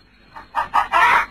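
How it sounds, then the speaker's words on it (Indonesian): A chicken clucks close by in a kitchen with a few loud, rising clucks that come faster and fuller toward the end, heard clearly on their own. "Kenapa ayam itu kau bawa ke dapur sini?"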